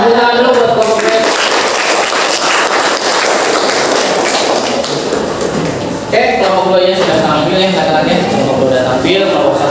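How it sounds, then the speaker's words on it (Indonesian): Loud, dense applause from a university class group fills most of the clip, then fades as a person starts speaking clearly over the last few seconds. "Tepuk tangan dulu buat kelompok 2"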